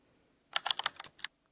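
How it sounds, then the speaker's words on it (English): A computer keyboard is tapped in a quick burst of about eight to ten crisp clicks over under a second, close and fairly quiet, with no speech. "Oh, we hear the clicking. So he's typing now."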